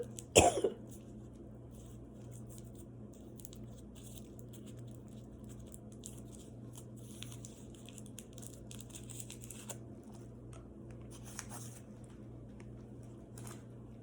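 One sharp cough right at the start, then a long stretch of soft, intermittent crinkling as a cough drop wrapper is picked open, all quiet and close against a low room hum.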